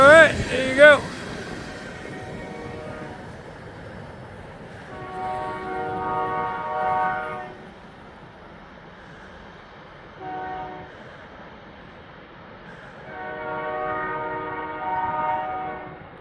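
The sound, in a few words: locomotive train horn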